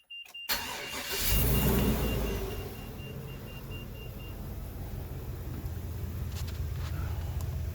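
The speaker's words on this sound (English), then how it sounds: "fire up the engine" A car engine cranks and fires up at an RV battery and alternator setup with lithium batteries, catching with a loud surge and then settling into a steady, even idle, alone without talk.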